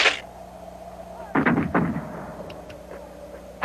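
A musket volley fired by soldiers in a 1977 Revolutionary War film: two sharp, loud cracks in quick succession midway, each trailing off into a rumbling echo, with faint clatter afterward.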